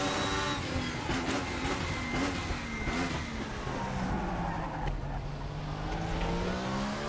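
A race car engine in the RaceRoom racing game roars steadily at high revs, pitch rising and dipping through gear changes, loud and continuous without talk.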